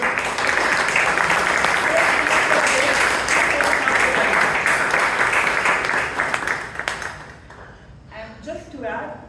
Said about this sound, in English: So big round of applause to VP membership.